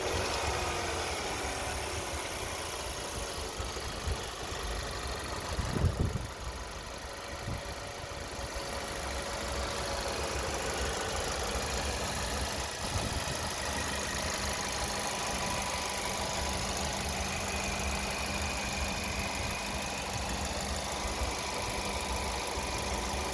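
A Mercedes-Benz CLA Coupe engine idles steadily at mid pitch with a low, even hum, close and continuous throughout, with a brief bump partway through and no talking.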